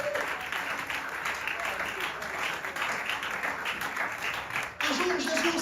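A church congregation applauds and acclaims the Lord in a steady burst of clapping and cheering voices, a sharp swell near the end.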